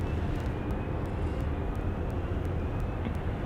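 A 737-800 airliner departing at Dallas Love Field gives a loud, steady broadband engine roar, continuous throughout with a faint high whine and some short clicks over it.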